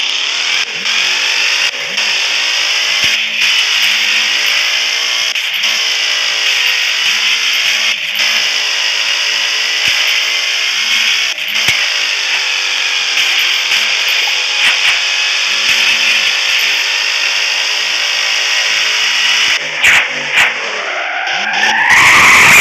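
A modified Ford Mustang in the Roblox game Driving Empire roars with a loud, sustained engine drone and tyre skid for over twenty seconds, the pitch wavering steadily before a rising rev at the end.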